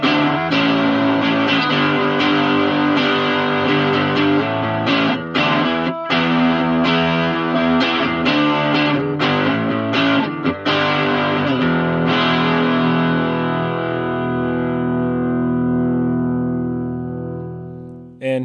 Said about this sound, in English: So here's what that crunch preset sounds like.